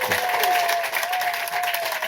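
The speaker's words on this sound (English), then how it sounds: "You may clap. Clapping's allowed." An audience bursts into applause, a steady patter of many hands clapping for about two seconds, fairly close and lively, with a faint tone and murmur running underneath.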